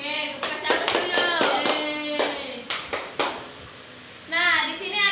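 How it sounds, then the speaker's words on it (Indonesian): A third-grade class of children in an Indonesian primary school clapping in a quick run of hand claps, followed by children's voices speaking up. "Oke, kasih aplaus dulu."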